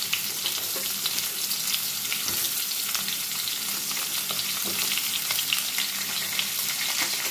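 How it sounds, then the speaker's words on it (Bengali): Potatoes and drumstick pieces frying in oil for a Bengali chorchori, with a steady, dense sizzle running throughout and occasional soft stirring scrapes underneath, close up and continuous. "এবার একটু তেলের মধ্যে এটাকে নাড়াচাড়া করে নেব।"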